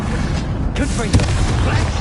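A fiery blast from the Confringo spell in Hogwarts Legacy erupts with a sharp booming burst about midway through, over a steady rumbling game background.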